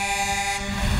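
A truck horn blares during a small-town Christmas parade on Main Street, one sustained tonal blast that shifts pitch partway through, with road and crowd noise rumbling underneath.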